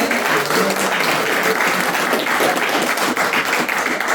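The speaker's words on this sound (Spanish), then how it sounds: "Un aplauso para él." An audience at a university faculty event applauds for a lecturer, a thick wash of clapping that stays loud and steady from start to finish.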